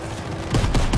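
Rapid gunfire in the World War II shooter Call of Duty: WWII, during Operation Cobra, a few heavy, close shots landing in quick succession in the second half.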